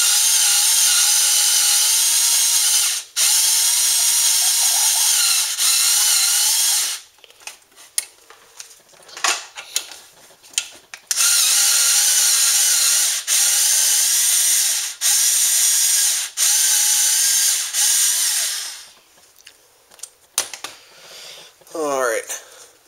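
A power tool works a brake caliper bolt loose on a Ford Focus during a brake pad and rotor job, running in long, loud, steady bursts broken by short pauses and clanking handling noises.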